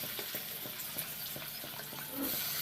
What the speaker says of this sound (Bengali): কুচি করা রাখা পেঁয়াজ সব একসঙ্গে ভেজে নিব। একটু লাল লাল করে ভেজে নিব।